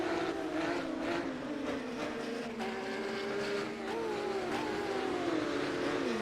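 External engine of a Porsche GT3 Cup car in the racing game rFactor 2, a steady high-revving drone with shifting pitch as it accelerates and changes gear, moderately loud and continuous.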